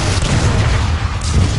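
Warp cannon shelling a plaza in Transformers: Fall of Cybertron, heard as a dense, low rumbling boom with rolling thuds that stays loud and close throughout.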